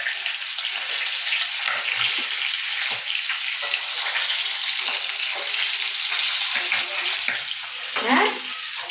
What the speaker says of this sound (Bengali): মাছ ভাজা করছি মাথা।